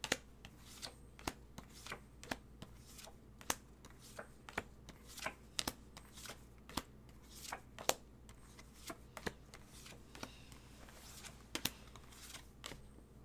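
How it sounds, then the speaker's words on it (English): Tarot cards being turned over one by one in a quiet room, a steady series of soft snapping flicks and light card slaps spaced roughly every half second, with faint shuffling in between. "I turn over cards until I either hit the number 13 or an ace"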